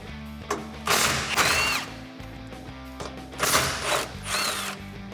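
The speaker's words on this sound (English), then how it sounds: "I'm also going to be using my impact wrench." An impact wrench removes bolts from the rear bumper bracket of a 2016-2020 Toyota Tacoma, firing in two close bursts of rattling, hammering whir with a short pause between them, loud and near.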